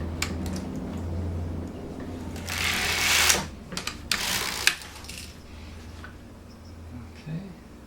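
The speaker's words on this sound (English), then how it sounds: "now I'm ready to knit my row." A Passap knitting machine knits a row of a sock. The carriage makes brisk mechanical whirring, clattering passes over a low steady hum, followed by a few lighter clicks.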